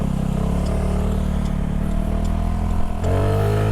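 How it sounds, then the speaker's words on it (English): A Buddy Kick 125i scooter with a sport exhaust holds a steady, buzzing engine note, then the throttle is punched and the pitch climbs sharply as it revs, loud and close. "I love that exhaust note on this thing when you punch the throttle."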